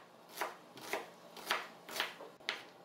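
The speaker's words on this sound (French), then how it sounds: "Là, je vais venir couper l'oignon en morceaux." Five evenly spaced knife strikes chop an onion into pieces on a cutting board, each a crisp close thump roughly half a second apart, with no talk.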